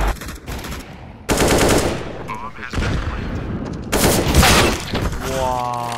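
Rapid automatic rifle bursts and single shots in a Counter-Strike: Global Offensive competitive match, loud and close, coming in several separate volleys with short gaps, a metallic clink near the end.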